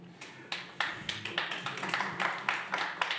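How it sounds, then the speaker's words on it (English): Sharp rhythmic claps repeat quickly and steadily, a small burst of hand clapping, fairly close and moderately loud, with no voices. "I hear the applause"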